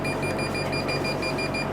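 A ZL-7918A temperature and humidity controller sounds its alarm buzzer, a steady, continuous electronic tone sustained at moderate volume with no talking.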